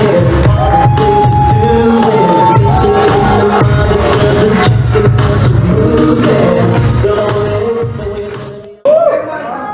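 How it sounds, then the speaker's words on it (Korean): A large audience at a network-marketing event loudly welcomes a Diamond agent to the stage with sustained applause, whoops and shouts. The noise stops abruptly near the end, followed by a brief burst of sound. "여러분 큰 박수로 환영해 주시기 바랍니다"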